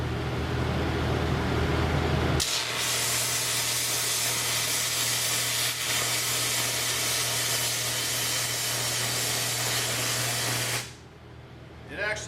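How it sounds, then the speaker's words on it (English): An arc gouging rod searing into cast iron gives a loud, steady roaring hiss that starts abruptly and runs unbroken for about eight seconds before cutting off, with a low hum beneath it. "If there was a crack in there, instead of grinding it, you would use this gouging rod."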